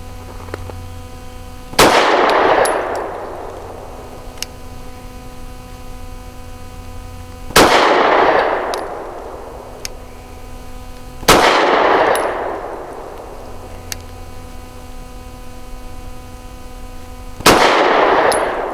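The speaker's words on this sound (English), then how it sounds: "I'll be shooting at the right circle square for my 5 shots" A Taurus GX4 pistol fires 115 grain ball ammunition at a range, four sharp loud shots spaced several seconds apart, each with a ringing decay over a low hum.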